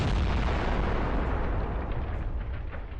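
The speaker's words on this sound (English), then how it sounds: "The explosion was so powerful that the tank's turret was blown off." A powerful explosion as an FPV kamikaze drone strikes a tank's ammunition, a loud broadband blast that fills everything from the first instant and rumbles on, decaying only slightly over a few seconds.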